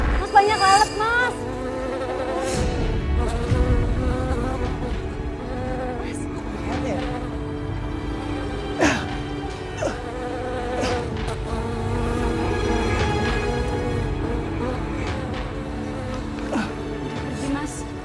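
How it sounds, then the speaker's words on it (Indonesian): Buzzing flies swarm close by in a steady insect drone lasting the whole stretch, with people talking and other background sounds over it. "Mas banyak lalat, Mas."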